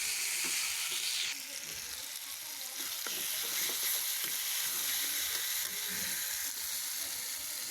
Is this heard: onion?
yes